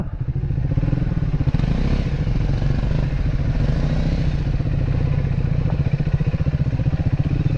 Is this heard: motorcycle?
yes